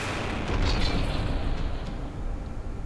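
Missile and mine explosions in From The Depths, a dense, continuous roar of heavy blasts and rumbling detonations merging into one loud, sustained barrage with no voices.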